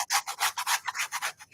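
Quick back-and-forth scraping strokes rasp across a surface while lifting material during crafting, a close, rhythmic run of about a dozen strokes with no voices.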